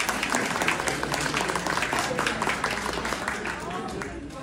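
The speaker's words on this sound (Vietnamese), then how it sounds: "Vậy thì một tràng pháo tay cho các ban tổ chức và các em tham dự ngày" Applause at a reunion party in Westminster, California, a steady crowd of hands clapping with scattered voices and chatter mixed in, moderately distant and even throughout.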